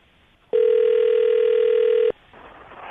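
A steady telephone dial tone, part of a call on a morning radio show, sounds loud and unbroken for about a second and a half, then cuts off abruptly and leaves quiet line noise.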